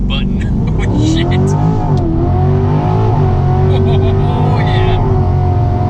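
A 2020 C8 Corvette on nitrous accelerates hard, its engine roaring loud and close as it revs up through the gears, with people talking and exclaiming over the engine noise.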